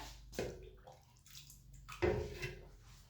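Lukewarm water splashes and gurgles briefly in two short bursts as it is poured over yeast and sugar for bread dough, close by, with quiet pauses between.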